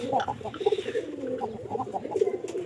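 Pet pigeons cooing close by, soft throaty warbling calls repeating in uneven bursts, mixed with some background voices and small movement noises.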